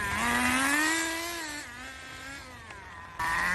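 A nitro RC car engine buzzing at around 60% throttle, a high, raspy two-stroke whine that rises and falls in pitch as it moves, fading slightly before surging louder again near the end.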